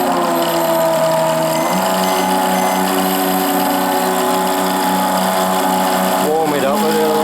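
A synthesized Ferrari-like engine note from a Sense ESS-One sound module on a slot car dyno, droning steadily with layered harmonics, then revving up sharply near the end at fairly loud level.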